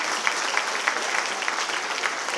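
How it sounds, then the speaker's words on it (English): A school annual day audience claps steadily for a student's exam result, an even wash of many hands with a few sharper claps standing out, no talking. "Applause, everyone."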